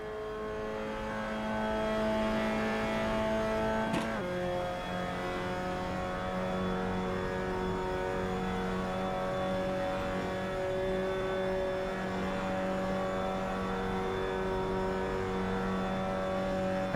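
A Mazda Miata engine in a racing video game drones steadily at a sustained, fairly constant pitch. A brief gear shift or dip near the start interrupts it, then the tone holds level and close.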